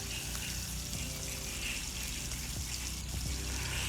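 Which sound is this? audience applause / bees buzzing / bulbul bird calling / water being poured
water being poured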